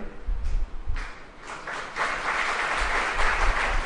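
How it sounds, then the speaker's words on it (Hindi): Audience clapping at a Hindi spiritual discourse, a broad steady patter of many hands that rises and fills the room after a few scattered early claps, continuing throughout at moderate loudness. "ये ताली कौन बजा रहे हैं?"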